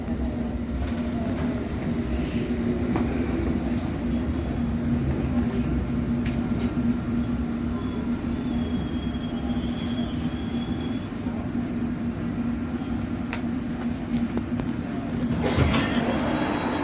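A London Underground Circle Line train runs with a continuous low rumble and hum, broken by occasional thin metallic wheel squeals, steady and close throughout.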